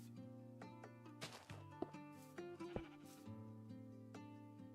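Sheep bleating in the Minecraft video game, several wavering blocky calls overlapping in quick succession over background game music.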